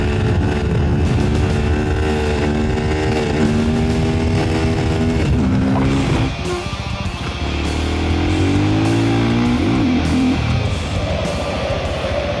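A Sherco 500SM Factory supermoto motorcycle engine roars steadily through the whole stretch, pitch rising and falling as the rider shifts and accelerates, loud and close throughout.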